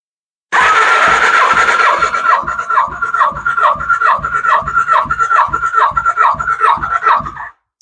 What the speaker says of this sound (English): I had the throttle open and I was cranking till about that needle, to where about the needle started moving